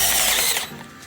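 A power drill's clutch slips and ratchets as it tightens a nylock nut on a custom Lagun table mount in a converted Ford Transit, a loud, rapid grinding chatter that eases off partway through.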